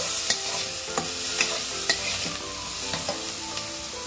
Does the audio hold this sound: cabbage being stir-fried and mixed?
yes